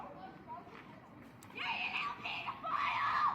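A person screams in a played recording of a heated confrontation: shrill, sustained cries that rise sharply after a stretch of muffled talk and repeat in loud bursts to the end.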